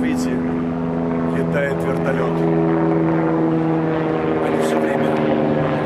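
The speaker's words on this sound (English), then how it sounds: "You see helicopters are flying." A loud, steady rotor drone of helicopters overhead, with low sustained engine tones and brief voices talking beneath it.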